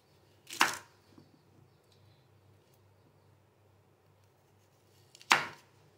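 A knife chops through peeled raw mangoes in two sharp, isolated strikes several seconds apart, near and crisp against a quiet background.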